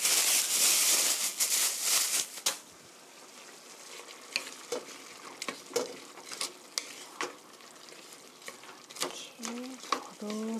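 Beef stew with zucchini and two tablespoons of hot green pepper being stirred in a pot: a loud sizzle at first, then scattered scrapes and clinks of the spoon against the pan, with a voice speaking briefly near the end.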